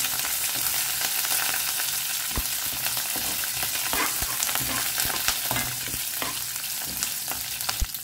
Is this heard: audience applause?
no